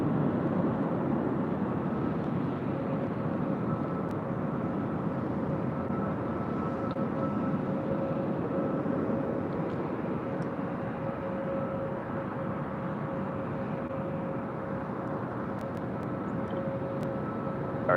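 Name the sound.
airliner rolling down runway 24 left at LAX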